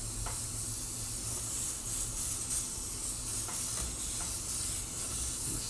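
Steady airbrush hiss spraying paint in a fine splatter through a rip-torn stencil, continuous and close, with a few faint clicks and no talking.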